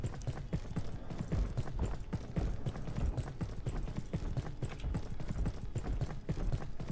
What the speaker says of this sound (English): I hear somebody stomping around too.